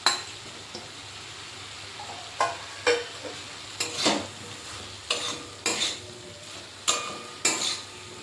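Fried okra and potatoes being stirred into mustard masala in a pan, low sizzle under repeated spoon scrapes and occasional clinks of utensil on metal, close with no talk.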